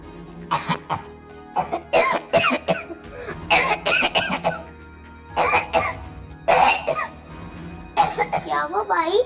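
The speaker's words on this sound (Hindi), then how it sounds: "क्या हुआ भाई, इतना खांसी हो रहे हो?" Repeated harsh coughing fits in bursts, close and loud, with throat-clearing between them.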